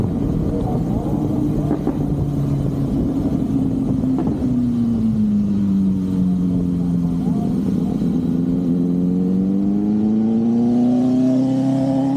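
A BSA motorcycle engine drones steadily up close, its pitch sliding up and down as it speeds and slows, with wind noise throughout.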